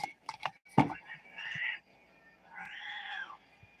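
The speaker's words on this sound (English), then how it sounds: "My scratchy cat in the background says, yes, mommy, yes." A pet cat meows a few times nearby, two drawn-out rising-and-falling calls after some brief clicks and rustles, quiet and alone without talk.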